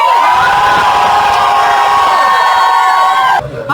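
A live audience at a comedy podcast show cheers and screams loudly and continuously, a dense crowd roar with shrill voices and whoops that cuts off abruptly near the end.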